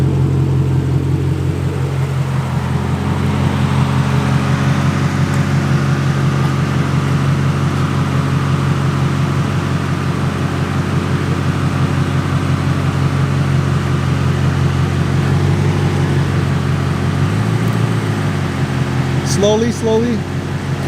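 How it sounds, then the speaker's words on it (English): A Lexus LC500 eases slowly up onto a ramp, its engine a steady, loud, low drone with a slight swell near the end, with muffled voices in the background. "Right now, Jorge's gonna pick up the LC500 onto the ramp."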